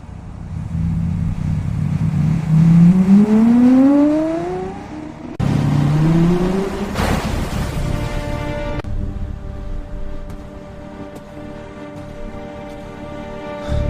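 A Lamborghini's engine revs up in rising sweeps twice, loud and close, followed by a steadier, lower rumble as it settles.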